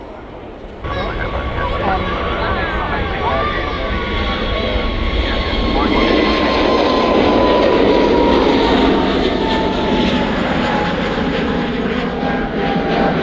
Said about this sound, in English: Just this bloody private jet ruining everything today.